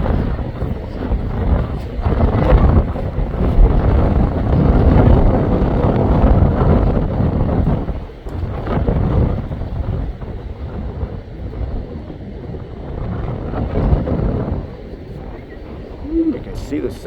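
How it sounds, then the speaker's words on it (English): Strong wind buffets a beach on South Padre Island, Texas, where a Kemp's ridley sea turtle nests, roaring steadily and loudly into the microphone with gusts throughout and blowing sand, while a voice talks over it. "It is really windy, guys."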